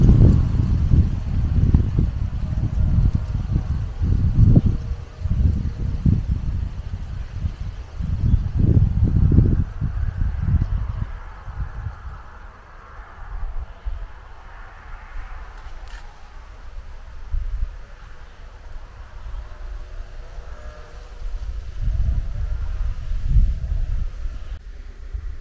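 Gusty wind buffets a clip-on microphone in a garden, coming in low rumbling bursts that rise and fade over and over, loud at times, with no one speaking.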